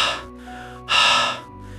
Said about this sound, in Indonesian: tiba-tiba ada suara kayak napas berat banget di belakang kami